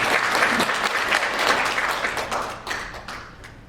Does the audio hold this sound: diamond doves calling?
no